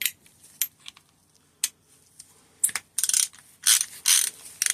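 A Hope tool cranks on a Hope Race Evo X2 hydraulic disc brake during a teardown, giving sharp, uneven ratcheting clicks and metallic ticks that grow into bursts of close clatter.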